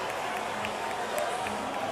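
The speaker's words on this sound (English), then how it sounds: "That sounds like cheers." Crowd at a Charlotte Hornets NBA draft viewing party reacting to a pick, a steady wash of cheering and crowd noise with faint voices mixed in, fairly distant and even throughout.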